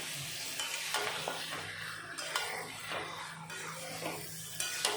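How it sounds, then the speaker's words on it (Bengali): Chicken pieces and cut potatoes frying with spices in a pan for chicken curry, a steady sizzle with repeated scraping stirs and occasional clinks of utensil against the pot, close and continuous, no voices. "এখন মশলার সাথে মাংস ভালো করে মিশিয়ে কষিয়ে নেব।"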